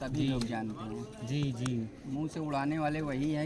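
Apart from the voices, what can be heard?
No distinct noise like a dog, phone or traffic.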